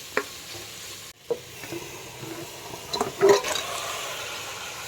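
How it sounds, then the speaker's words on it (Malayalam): Chicken with masala, tomato and onions for dum biryani stirred in a pot: irregular scraping and sizzling bursts, close and moderately loud, with a brief silent gap near the start. "നല്ലതുപോലെ ഇളക്കി സ്വല്പം വെള്ളമൊഴിച്ച് കൊടുക്കാം"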